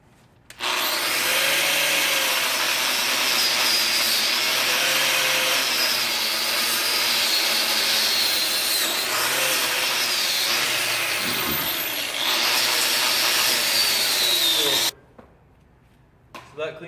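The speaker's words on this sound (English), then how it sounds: "I'm just going to clean up these welds with this wire wheel" Wire wheel on an angle grinder cleaning up welds on a homemade 60 lb steel post anvil, a steady loud high-pitched whirring and grinding that runs continuously for about fourteen seconds, then stops.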